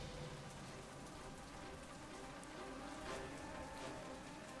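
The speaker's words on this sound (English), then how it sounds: "Hey, it's raining. It is raining." Steady rainfall in the Nancy Drew: Secret of Shadow Ranch video game, a dense continuous hiss of drops on surfaces that holds an even level throughout, with no voices.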